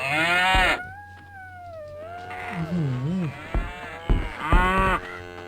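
Animal lowing and moaning calls from white gaur wild cattle in the Survivalcraft video game, several drawn-out tonal calls rising and falling, fairly close and clear with no talk over them.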